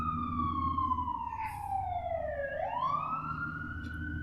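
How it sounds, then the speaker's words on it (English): A police-style emergency siren passes outside, its wailing tone falling then rising again, steady and moderately distant over low traffic rumble, with no one talking. "here's the siren coming up."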